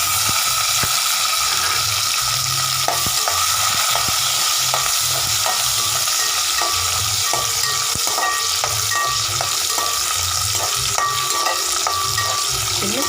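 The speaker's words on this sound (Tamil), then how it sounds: "இப்போ நம்ம வெங்காயம் பொரிஞ்சிருச்சுங்க." Small sambar onions fry in a pan with a loud, steady sizzle, and a spoon scrapes and taps against the pan as they are stirred.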